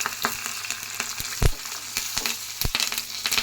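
Curry leaves and turmeric sizzle in a frying pan for garlic rice, a crackling fry close by with irregular scrapes and clinks of a spoon stirring, one sharp knock standing out.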